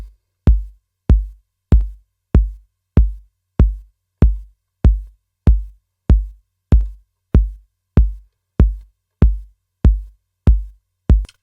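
Punchy kick drum hits, shaped by an automatic EQ plugin, repeat in a steady rhythm, around eighteen of them, each with a firm low thump and short decay, heard alone.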